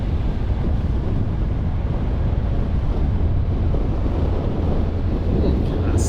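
Steady roaring wind buffets a rider cruising a 2014 Honda CTX700 DCT motorcycle in sixth gear, loud and constant throughout, with no talk.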